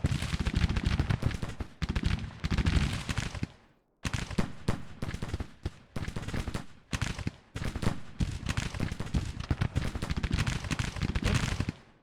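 Musket volleys crackle densely in Grand Tactician: The Civil War during the 1862 Battle of Mount Vernon, with overlapping shots rolling almost continuously and a brief lull partway through.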